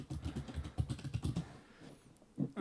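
Keys on a computer keyboard clatter in quick bursts of close clicks, with a short pause before a final few taps. No one talks.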